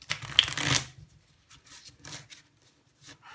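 A deck of tarot cards is shuffled briskly in one dense burst, then a few softer card riffles and slides follow at close range with no talking.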